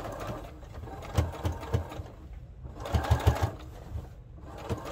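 A sewing machine with a sturdy needle stitches through several thick layers of tea towels, running in two loud whirring bursts of rapid needle thumps separated by a short quiet stop.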